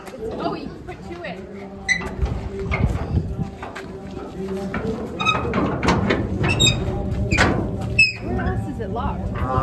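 A sliding door on a livestock trailer that once held cattle is opened, with squeaks and metallic scrapes and clanks over several seconds while people talk nearby.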